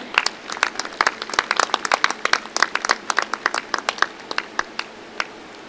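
Spectators at a sports event cheer on men's volleyball teams with scattered clapping from a small group. The sharp, distinct claps come in uneven bursts and grow sparser toward the end, with no voices over them.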